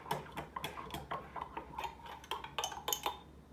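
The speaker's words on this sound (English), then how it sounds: "Now just take you a butter knife and just incorporate it together good." A butter knife scrapes and clinks against a bowl while stirring butter and honey together, giving a close, steady series of small taps and scrapes in an irregular rhythm with no talking.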